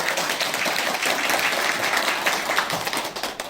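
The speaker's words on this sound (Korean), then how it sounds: "큰 박수로 박이치 회장님을 맞이해 주시기 바랍니다" Forum audience applause welcoming a former association chairman to the stage, a continuous, even round of clapping from a hall full of people.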